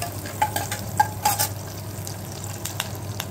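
A tempering of mustard seeds, cumin, dried red chillies and curry leaves sizzles in hot oil for sambar, a steady low fry broken by a few sharp spoon clinks and stirring scrapes.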